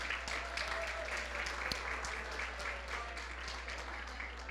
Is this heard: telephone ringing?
no